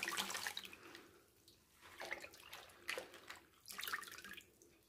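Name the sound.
draining salt water from salted napa cabbage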